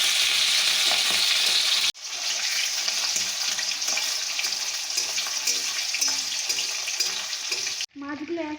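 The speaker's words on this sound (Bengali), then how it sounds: "এখন আমি কড়াইতে তেল দিয়ে মাছটা ভেজে নেব।" Katla fish fillets fry in hot oil in a wok, a loud, steady sizzle and crackle running almost throughout, with a brief break early on and a louder burst near the end.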